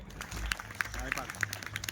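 An audience at a Gujarati temple anniversary festival claps in a quick, steady rhythm, fairly faint, under a voice speaking.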